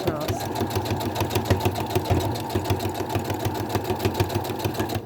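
A sewing machine running steadily as it stitches fabric for a boxy zipper bag, a fast even mechanical whir with a regular thumping needle rhythm, close up, while a person talks over it.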